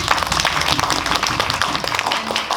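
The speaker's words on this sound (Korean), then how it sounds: "박수 부탁드립니다." Audience applause at a film screening's guest talk on opening day, a dense, steady patter of many hands clapping close by for the whole stretch, with faint voices mixed in.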